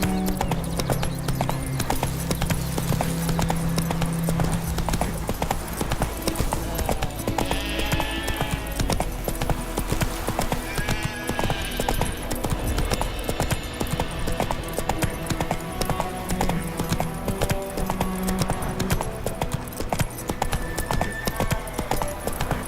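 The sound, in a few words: Roach the horse trotting, from video game Witcher 3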